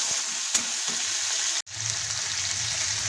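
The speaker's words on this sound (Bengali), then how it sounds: "মশলাটা ভালোভাবে ভেজে নেব।" Spices and green chilli sizzle in a hot pan for a spinach and paneer dish, a steady close hiss broken by a couple of soft stirring knocks and one brief cut-out.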